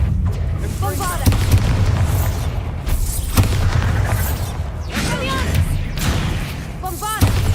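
Bombarda spell explosions in Hogwarts Legacy land as several punchy booms spaced a couple of seconds apart over a low rumbling game backdrop, with brief voice sounds between them.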